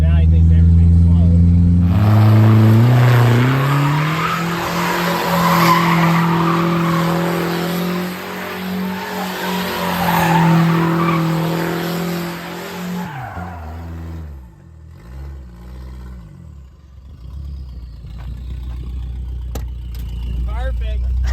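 Car doing donuts, a loud continuous tire squeal and skid over a roaring engine for about ten seconds, then the engine winds down and fades, with voices talking through it.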